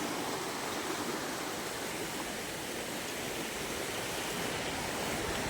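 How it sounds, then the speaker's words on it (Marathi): Fast-flowing flooded river water rushing steadily past, a dense, loud and continuous roar with no breaks. "एवढं फास्ट पाणी येतंय मित्रांनो."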